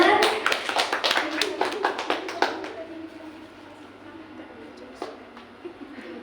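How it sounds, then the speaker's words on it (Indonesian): An audience at a school vlog competition presentation claps in a short burst of distinct handclaps that fades after about two and a half seconds, leaving quiet room sound with a few scattered claps and faint talk. "Tepuk tangan"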